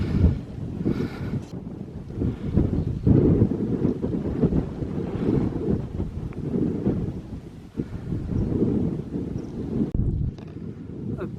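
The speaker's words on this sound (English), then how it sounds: "still quite blowy up on the top, which is not surprising. So exposed up here." Strong wind batters the microphone on an exposed hilltop, a continuous low roaring rumble with gusty surges that never lets up, loud and close.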